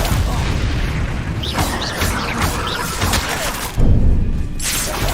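Confringo fiery blast spells and other combat magic in Hogwarts Legacy, a dense, loud roar of explosive bursts with a sharp, heavy boom near the end, no talk over it.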